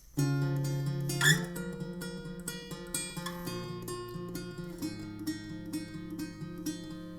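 Guitar plays the second part of the verse of a song: a steady run of plucked, ringing notes and chords, close and clear, with no voices.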